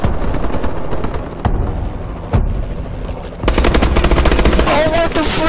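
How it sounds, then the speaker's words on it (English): Loud automatic weapon fire in Call of Duty Advanced Warfare multiplayer rattles in steady close bursts with a few sharp single shots, building to a heavier barrage near the end. Game effects and some voice sit underneath. "I shot the hell out of that guy."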